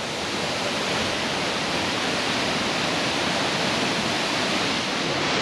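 Milla Falls, a cold waterfall, roars in a steady, dense broadband rush, loud and close, constant with no breaks and no voices.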